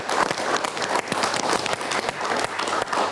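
Lively studio audience applause on an Indonesian political talk show, a dense burst of clapping that carries on steadily throughout, with faint voices beneath.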